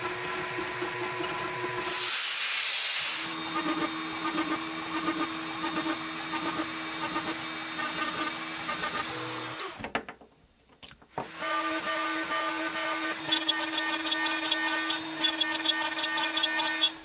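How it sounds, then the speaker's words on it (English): A CNC machine cuts lettering into a 1/2 inch plastic back panel with a V-groove bit, giving a steady, loud whine and grind. It pauses briefly in the middle, then resumes. "while the CNC is cutting out that back panel. This is a piece of 1/2 inch thick plastic and this machines really nicely."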